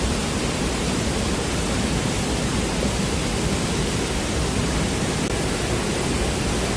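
Cheonmun waterfall near Seoul roars as a steady, dense wash of falling water with no rhythm or breaks. It is loud and unchanging throughout, with no voices.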